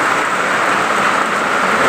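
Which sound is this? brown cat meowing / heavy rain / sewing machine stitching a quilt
heavy rain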